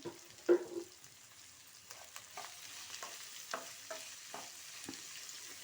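Capsicum sautés in oil with salt in a pan, a quiet sizzle broken by repeated scraping stir strokes at an irregular pace, with one louder knock near the start.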